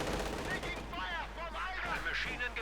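MG42 machine gun fire in the Company of Heroes 2 strategy game, a continuous crackling burst of rapid game gunfire running throughout with battle noise and some voice underneath.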